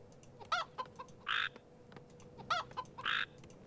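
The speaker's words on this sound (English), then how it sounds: "There's like a chicken and a frog in your base." Clucking of a chicken critter in the Warcraft 3 strategy game: short repeated clucks and brief squawky calls spaced through the clip, fairly quiet against a faint game background, with no talking.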